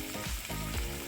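Onions and cheese sizzle steadily in a hot skillet, a close, continuous crackling hiss with no pauses and no voices.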